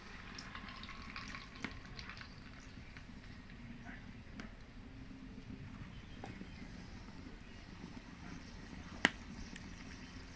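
Battered raw banana lollipops frying in hot oil, giving a steady low bubbling sizzle throughout with a couple of small clicks.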